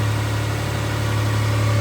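A 1997 Toyota 4Runner engine idles steadily while warming up after a timing belt and water pump job, a continuous low hum with a faint vibration, close and even, with no voices.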